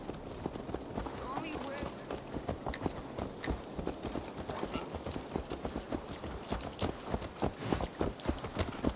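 Horse hooves clip-clop in Assassin's Creed Valhalla, a brisk, even run of sharp hoof strikes that stays fairly close. Voices talk over the hoofbeats.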